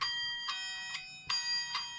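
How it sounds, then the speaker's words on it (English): A Bim Bam clock with real tubular bells and an electronic battery movement rings out in a slow series of clear, ringing metallic strikes about half a second apart, each tone lingering and overlapping the next, heard close and alone. "A Bim Bam, and it's actual tubular bells on there, and it's an electronic movement."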